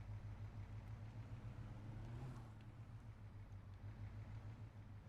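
A car engine in the video game Saints Row 2 drones steadily and close throughout, a low constant hum with no talking.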